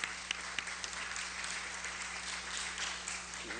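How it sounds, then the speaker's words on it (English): Audience applause in a lecture hall after a speaker's remarks, a steady wash of clapping from start to finish at moderate level, with no talk over it. "let's give him another round of applause"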